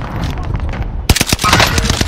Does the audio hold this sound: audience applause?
no